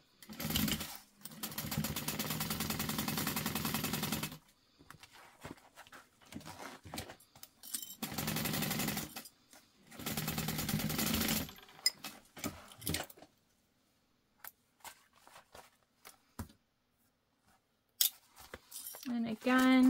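A sewing machine top-stitches a zippered pouch in three or four bursts of steady stitching, separated by pauses with small clicks and handling sounds.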